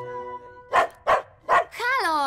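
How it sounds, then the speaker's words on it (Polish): Three loud, evenly spaced barks from a cartoon dog, followed by a rising, drawn-out whine. "Nie można szczekać na państwa!"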